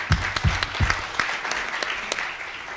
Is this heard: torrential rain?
no